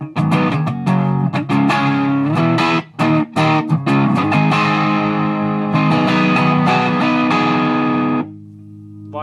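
An electric guitar played through a Boss DS-1 distortion pedal with the distortion turned all the way down and the volume backed off, giving mildly overdriven strummed chords and single notes that ring out and then decay.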